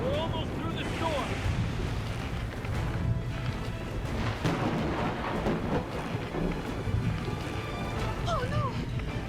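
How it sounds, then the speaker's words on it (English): Stormy scene with rumbling thunder and a steady roar of wind and rain, loud and continuous, with a voice speaking over it and brief high whistling tones near the start and end. "it's thundering and storming like this"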